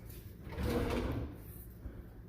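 A wooden drawer slides open or shut with a single soft rumbling glide lasting about a second, close by and fairly quiet in an otherwise hushed room.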